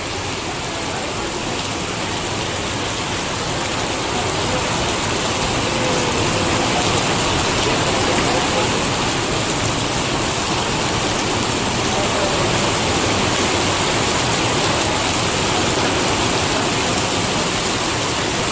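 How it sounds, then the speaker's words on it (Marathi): Heavy monsoon rain pours over Ardhapur town in a dense, unbroken roar, loud and constant throughout with no pauses. "अर्धापूर शहरामध्ये मुसळधार पावसाला सुरुवात झालेली आहे"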